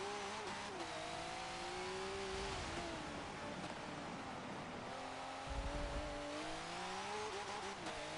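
A V8 Supercar racing in the rain at Brands Hatch in the game Forza 7, its engine droning steadily with pitch rising and falling through gear changes, continuous and close.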